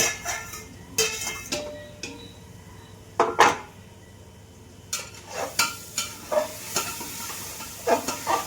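Onion and masala frying in a large pressure cooker, stirred with a utensil that scrapes and clinks against the metal in repeated bursts over a low sizzle.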